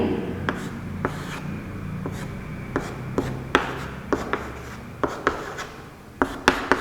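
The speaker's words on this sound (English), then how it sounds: "You will draw a line" A marker or chalk scratching across a board while a number line is drawn, with short scraping strokes and sharp taps at irregular intervals, close and fairly quiet, no talk.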